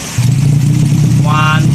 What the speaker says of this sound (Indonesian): Cek sound Grand 2 silinder.